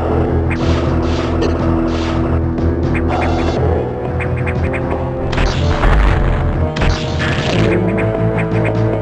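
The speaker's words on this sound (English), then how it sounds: "Explosion." Explosion sound effects from the Game Boy Advance game Metroid Fusion during a Sector 3 emergency: loud broadband crashes burst out around the middle and again near the end, layered over a dense, continuous game soundtrack.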